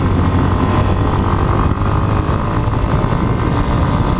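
Motorcycle engine droning steadily and loudly up close, with wind rush, while the rider leans the bike through a curve on a mountain road climbing between Nova Friburgo and Cachoeiras de Macacu.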